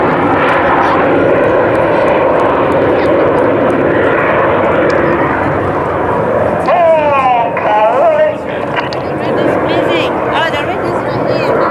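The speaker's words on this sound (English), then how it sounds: "There's the 3 aircraft that depart to the right." Loud continuous roar of RAF Red Arrows jets during an air show flying display in the USA, a broad sustained rumble throughout with a commentator speaking over it.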